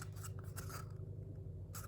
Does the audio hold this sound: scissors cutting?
yes